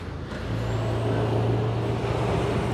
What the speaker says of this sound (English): lots and lots of noisy timber lorries